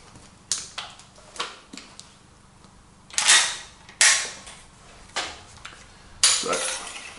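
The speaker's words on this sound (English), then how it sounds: "we'll just put a few rounds through each of these two rifles" Henry Big Boy Steel lever-action rifles in .357/.38 Special firing several single shots, each a sharp crack with a short decaying tail, spaced about a second apart with quieter lever-action clicks between them.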